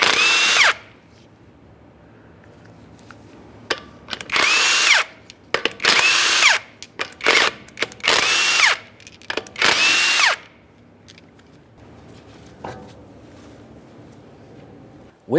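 Power tool spinning off the 19mm lug nuts of a 2013-2020 Ford Fusion wheel: loud, close whirring bursts, about five, each a second or so long, separated by short pauses and clatter.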